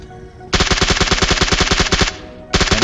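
Automatic gunfire in the mobile game PUBG Mobile rattles out in a long rapid burst, pauses briefly, then starts again, loud and close with no voices over it.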